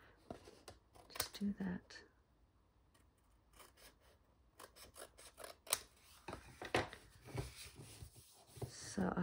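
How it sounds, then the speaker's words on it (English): Scissors trim paper for a pocket page or planner insert, giving scattered close snips and rasping cuts in short clusters, mixed with paper handling and someone speaking briefly. "I'm going to trim this off now."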